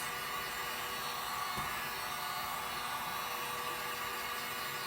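A hair dryer blows steadily on a black and gold painted DIY pumpkin, a constant close whooshing drone with no talk over it.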